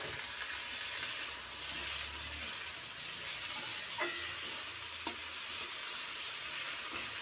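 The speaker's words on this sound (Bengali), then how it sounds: "শাকটা দিয়ে আরেকটু ভালো করে ভেজে নেব।" Leafy greens fry in a pan with sautéed onion, making a dense, even sizzle throughout. Occasional soft stirring clicks sit over it, and no one speaks.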